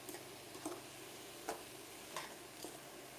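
Garlic, ginger and vegetables for spring rolls are stirred in a pan, giving a faint steady sizzle with soft periodic scrapes of the utensil, about four strokes spread evenly.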